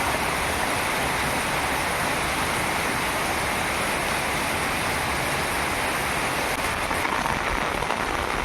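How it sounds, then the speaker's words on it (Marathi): A swollen river rushes steadily after days of heavy monsoon rain in the Konkan region. The roar of churning water is loud, dense and unbroken throughout, and no one speaks. "भरलेली नदी आहे"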